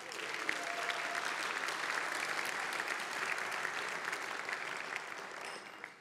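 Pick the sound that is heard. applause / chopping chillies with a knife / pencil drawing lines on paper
applause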